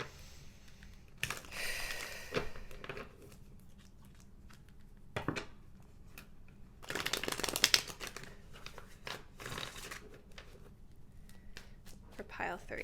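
Tarot cards shuffled by hand: irregular papery bursts of riffling and sliding cards, some quick and clattery, others longer and louder, scattered over a quiet background.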